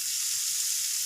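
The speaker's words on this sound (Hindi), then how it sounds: "प्याज को हल्का सा नरम करते हैं।" Onions soften in a pan of hot oil for a bread samosa snack, a steady bright sizzle that holds level and close throughout.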